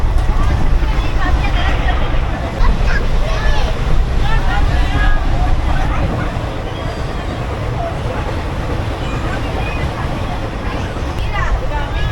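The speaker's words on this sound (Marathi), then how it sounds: "वादळ वगैरे असं आलं आहे, खूप जोरात वारा चालू आहे" Strong stormy wind roars steadily into the microphone in Karnataka, a dense rumbling buffet that persists throughout, with voices faintly underneath.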